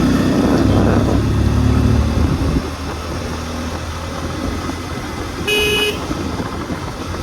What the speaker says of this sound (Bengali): এন 250 আর কি ভালো বাইক এটা